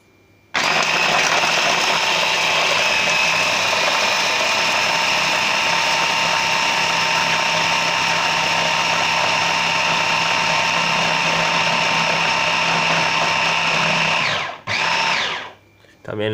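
A kitchen blender or chopper whirs steadily and loudly while blending pesto, running unbroken for about fourteen seconds before a brief stop and a short restart.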